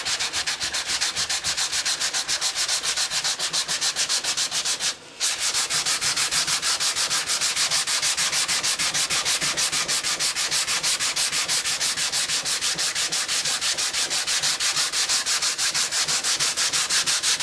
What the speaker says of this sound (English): are you using a sanding block just because it's convenient and not an orbital sander